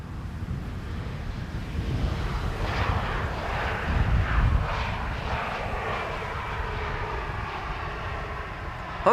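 A TAP Air Portugal airliner, flight 668, at Amsterdam Schiphol Airport on a sunny day, with a loud, steady jet engine roar that swells to a peak midway and stays close throughout.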